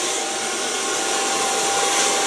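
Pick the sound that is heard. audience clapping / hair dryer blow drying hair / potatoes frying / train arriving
hair dryer blow drying hair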